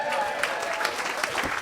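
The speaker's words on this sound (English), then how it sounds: "I want you to keep that applause going" Sustained audience applause at a footy television show, dense steady clapping from a crowd in the studio, with some voices mixed in.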